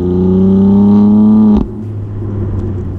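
A BMW M2 Competition's 410-horsepower straight-six sports car engine roars loudly under steady load for about a second and a half, then cuts off abruptly into a lower, settled drone as the car eases off.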